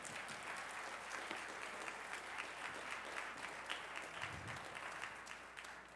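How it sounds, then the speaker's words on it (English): An audience in a room at a Martin Luther King Jr. Day celebration claps steadily, a full, continuous round of applause heard at a distance and fading slightly at the end. "So let's give everybody in the room a round of"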